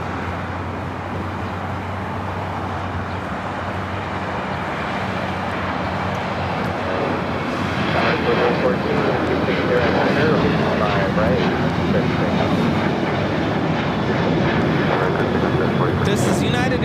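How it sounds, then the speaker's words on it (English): A United Airlines Boeing 737-800 takes off at LAX, its broad jet roar building from a steady rumble to a louder, fuller rush partway through and holding strong to the end, with faint talk underneath. "This is United Airlines 797 taking off to Los Cabos on 737-800."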